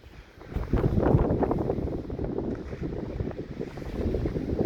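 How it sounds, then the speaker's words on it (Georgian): Steady gusting wind buffets the microphone outdoors in light snow at about -1°C, a dense low rumble rising and falling without pause. "ქარი და თოვლის ცოტ-ცოტა"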